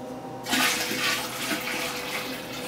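Beer wort gushing steadily into a fermenter after a brief quiet start, a continuous splashing pour up close with no voices.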